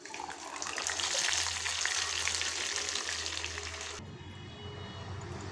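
Cooked dal hitting a hot tempering for a mixed-vegetable pappu charu, a loud steady sizzle and hiss that drops off sharply after about four seconds into a softer bubbling.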